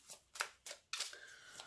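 Several short, crisp rustles and slides of tarot cards being handled and drawn from a deck, close and quiet, in quick separate bursts.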